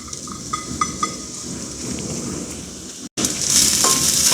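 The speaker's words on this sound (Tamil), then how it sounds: "வெங்காயம் நல்லா வதங்கட்டும்." Finely chopped onions fry in about two spoons of oil in a small kadai. A steady, close sizzle carries a few light clinks, stops for a moment, then comes back louder and hissier.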